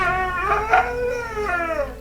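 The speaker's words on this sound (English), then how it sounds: "its speech only sounds like barking and snarling" A single gravelly, growling vocalization from a quaggoth, a Dungeons & Dragons monster, that rises and wavers like barking and snarling, loud and close with no other sounds.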